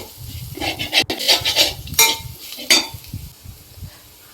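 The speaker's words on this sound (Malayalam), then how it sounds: "കുറച്ച് കാശ്മീരി മുളക് പൊടിയും ചേർക്കാം നന്നായി ഇളക്കി വഴറ്റിയെടുക്കാം" Kashmiri chili powder being stirred and sautéed in a pan for tomato rasam, with close scraping and clinking of a spoon against the pan in short bursts over a faint sizzle.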